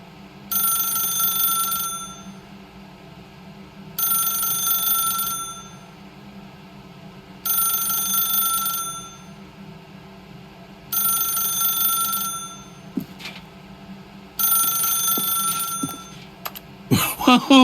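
A telephone rings in the video game The Stanley Parable, with five evenly spaced bursts of bright electronic ringing over a low hum, followed by a brief clatter at the end.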